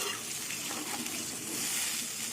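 Water poured into a simmering vegetarian potol kofta curry makes a steady, close rushing pour with broad hiss, continuous through the clip with no talk.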